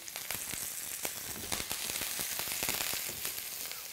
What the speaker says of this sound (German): Der Lammrücken rundherum schön angebraten.